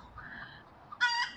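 A chicken clucks softly a few times at a distance, then a brief louder, higher call rings out near the end over faint outdoor background.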